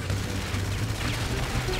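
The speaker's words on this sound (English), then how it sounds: "I'm firing missiles and bullets" Rapid gunfire from a military vehicle's mounted guns in GTA 5, a dense, continuous rattle of shots close and loud, sustained without pause for the whole stretch.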